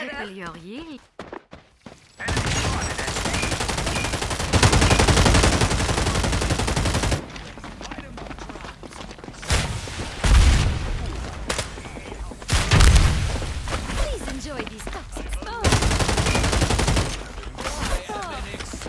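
A newly tried weapon in FragPunk fires in long sustained automatic bursts separated by brief pauses, loud and close, with footsteps and game effects between volleys and occasional talk.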